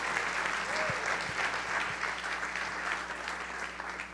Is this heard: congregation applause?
yes